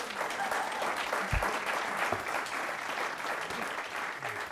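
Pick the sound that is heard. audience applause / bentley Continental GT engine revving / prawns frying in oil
audience applause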